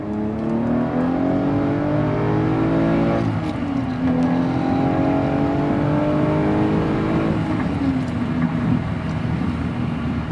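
A 2003 Aston Martin DB7 Vantage Zagato's V12 accelerating hard through the gears, the engine note climbing steeply, briefly dropping at each shift, then climbing again, loud and close.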